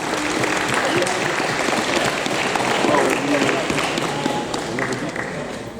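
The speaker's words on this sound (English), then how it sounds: "Another round of applause, please." An audience at an award ceremony applauds in a steady, sustained round of clapping that fills the room for several seconds, with a few voices faintly mixed into the crowd noise.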